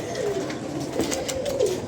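Pigeons at a water spot coo in soft, rolling calls, several low warbling notes repeated over a shuffling, lightly noisy background.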